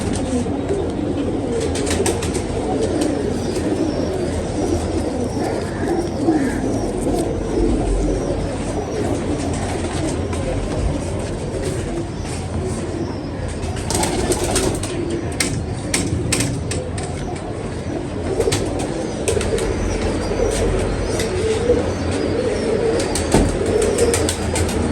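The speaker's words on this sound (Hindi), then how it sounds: "ये बड़ी बड़ी शानदार कबूतरी है" Pigeons in a loft coo continuously at close range, with a few sharp bursts of flapping wings breaking through the steady murmuring.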